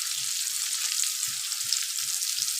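Steady hissing sizzle of frying in a pan while cooking egg curry, constant broadband crackle with faint low stirring knocks underneath, close and alone with no voices.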